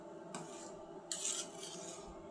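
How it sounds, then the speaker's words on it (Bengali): Spoon scraping and stirring in a pot of bottle gourd dal as turmeric is mixed in, a few soft metallic rasps and clinks, faint and brief. "এখন আমি একটু নেড়ে চেড়ে হলুদটাকে"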